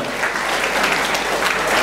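A large crowd at a college academic excellence awards and parents-teachers meeting gives a loud, dense burst of applause that fills the hall continuously from start to finish.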